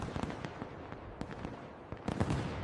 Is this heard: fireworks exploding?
yes